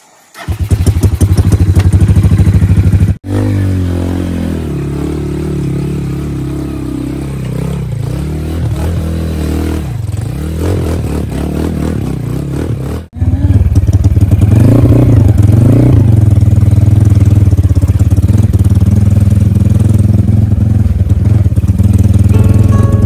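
A motorcycle engine runs loud and steady throughout on a long, rough mountain road, its pitch rising and falling as the rider shifts and accelerates, with brief dropouts.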